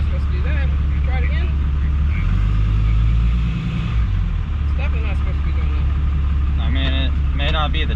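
Truck engine revving under load with the parking brake set, a loud, steady low rumble that swells and dips while people talk over it.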